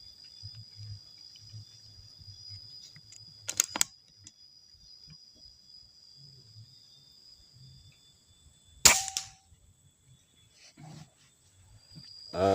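Two sharp, sudden PCP air rifle shots several seconds apart, from a regulated Marauder rifle, each a crisp snap over a quiet outdoor background with insects chirping faintly.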